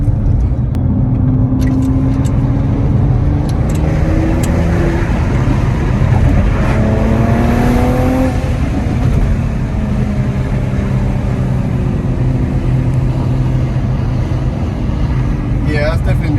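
A tuned 2021 Nissan GTR R35 driven hard on the road, a loud close engine drone with rising and falling revs throughout, steady and dense, with a few sharp crackles near the end.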